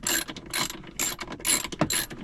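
A hand ratchet tightening a nut on a van swivel seat, rapid rasping clicks in about five short, evenly spaced bursts, close and loud, with no talk.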